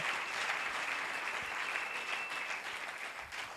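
A church congregation claps continuously, a dense, steady round of applause that fades slightly toward the end.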